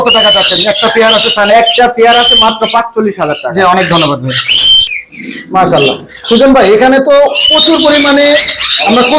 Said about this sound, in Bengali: এই কোনোর গুলো গ্রিন চিক আছে পাইনাপেল আছে সানচিক কোনোর আছে